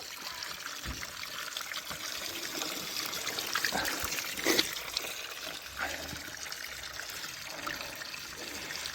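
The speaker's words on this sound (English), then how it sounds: "This is one of the draw-offs where you can get the Red Spring water." Iron-rich Red Spring water trickling from a draw-off tap in Glastonbury, a steady, close splashing dribble with a few louder spatters, heard on its own.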